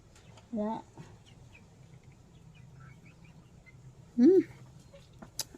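Two short clucking calls from chickens a few seconds apart, close by, against a quiet background.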